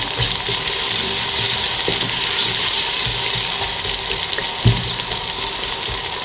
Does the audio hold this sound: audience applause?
no